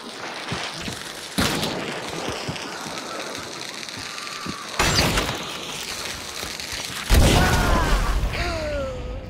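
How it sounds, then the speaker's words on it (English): Loud, booming blasts from a shotgun in a video game, three heavy hits spaced a few seconds apart among smaller thuds and crackling effects, close and forceful. "Did I just get shotgunned?"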